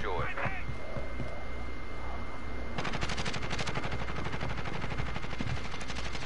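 Rapid automatic gunfire crackles through a tactical shooter game, a dense continuous burst from about three seconds onward over a steady low rumble, with players' voices talking in the mix.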